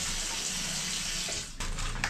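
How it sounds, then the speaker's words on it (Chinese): Small potatoes rinsed under a running kitchen tap, a steady close gush of water splashing in a sink that briefly shifts as the hands move, with no talking. "洗土豆喽，洗土豆，然后砧板也洗一下"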